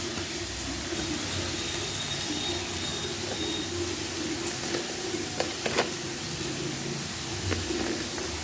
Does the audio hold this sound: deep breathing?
no